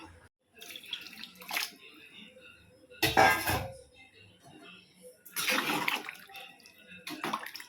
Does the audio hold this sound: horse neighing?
no